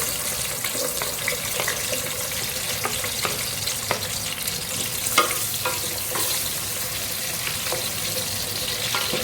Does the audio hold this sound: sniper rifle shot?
no